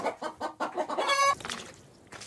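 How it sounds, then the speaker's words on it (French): Hungry hens on a flooded farm near Moscow cluck in a quick run of short, close calls, ending with a brief higher squawk and then quieter stray clucks. "Ces poules, elles aussi, sont affamées."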